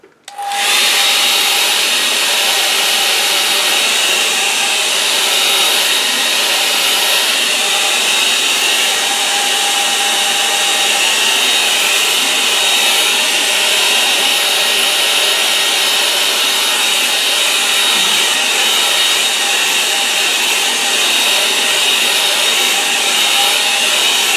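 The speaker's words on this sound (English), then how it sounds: "I'll dry it with a hairdryer." A hair dryer starts up and blows continuously at close range over wet watercolour paint on paper, a loud steady whooshing whine with no talk.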